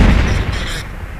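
A grenade blast in a tactical military video game, a single loud low boom that rolls off and decays over about a second, heard alone.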